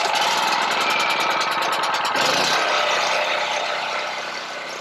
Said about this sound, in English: This generator is really loud though.